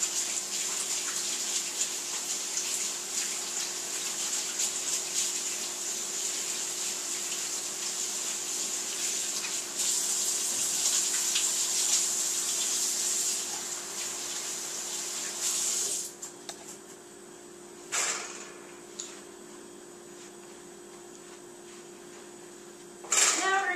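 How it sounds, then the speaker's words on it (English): A kitchen sink tap runs steadily for about sixteen seconds while hands are washed under the stream, then shuts off, followed by a few brief splashes and clatters. "Go ahead and wash your hands off again."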